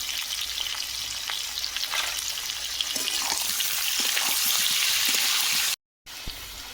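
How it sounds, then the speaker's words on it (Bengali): Potatoes frying in oil with salt and turmeric, a steady close sizzle with light stirring scrapes and crackles, cut by a short silent gap near the end before the frying resumes. "আলু নিয়েছি সেগুলো ভেজে নেবো লবণ দিয়ে দেবো হলুদ গুঁড়ো"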